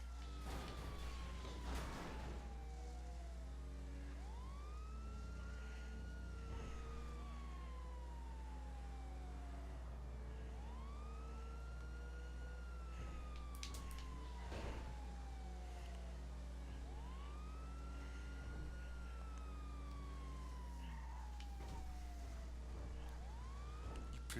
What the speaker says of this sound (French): Si je mets les sirènes, ils vont se tasser du chemin.